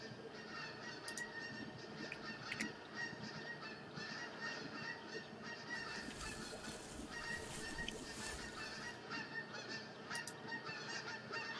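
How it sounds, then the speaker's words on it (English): Geese in the video game The Hunter Classic honk repeatedly overhead at a distance over a constant wash of background noise, their calls rising in a cluster midway, quiet and faint overall. "Can't hear anything with them geese flying over there."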